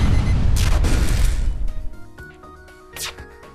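Missile fired at an enemy ship in the space strategy game FTL: a loud booming blast with crashing rumble that fades, followed by mechanical clicks and a second sharp impact, with a voice talking over it.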